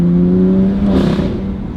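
A BMW F8x M3/M4 S55 twin-turbo engine with an equal-length exhaust revs loudly and steadily, a droning tone rising into a brief rush of boost and flap noise before settling, close and alone.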